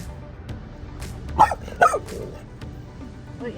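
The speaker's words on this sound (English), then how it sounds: "What are you barking at?" A dog gives two sharp, close barks about half a second apart, set among soft outdoor noise and faint rustling.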